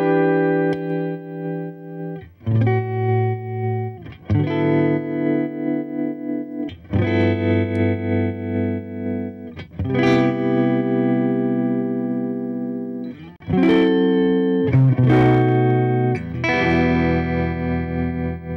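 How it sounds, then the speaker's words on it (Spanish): Electric guitar chords and notes ring out through a Silverbox Quasar tremolo pedal, sustained phrases with steady volume wobble, played alone without talking. "quiero presentarles este trémolo de la marca Silverbox, un pedal nacional, modelo Quasar."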